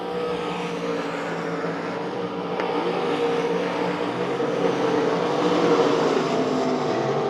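Race cars circling the dirt oval at Devil's Bowl Speedway during the Winter Nationals, a continuous loud blend of several engines droning and swelling as cars pass, alone without any talk.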